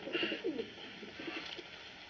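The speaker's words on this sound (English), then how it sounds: "United States Army Carrier Pigeon number 13576." A US Army Signal Corps carrier pigeon coos softly at close range, a few low throaty calls early on that trail off against a quiet, hissy background.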